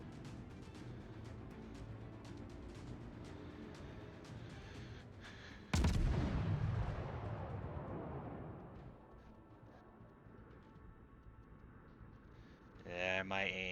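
A warship's heavy gun salvo in World of Warships erupts as one loud deep blast, then rumbles and fades over several seconds amid game background noise and clicks.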